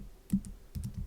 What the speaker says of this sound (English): So what we're going to do is type